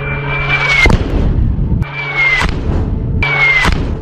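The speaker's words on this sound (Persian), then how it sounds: "در مجموع 8 هدف تعیین شده با 8 بمب سدید ارتقا یافته منهدم می شود" Three drone-dropped upgraded Sadid bombs hit targets one after another. Each blast is preceded by a descending whistle that ends in a heavy boom, repeated at a steady rhythm, loud and close over a constant low rumble.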